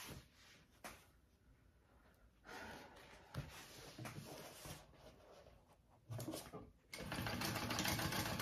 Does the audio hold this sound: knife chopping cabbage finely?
no